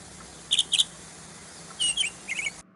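A cartoon bird gives short, high chirps in two brief clusters, a pair and then a quick run of several, clear and close against a quiet background.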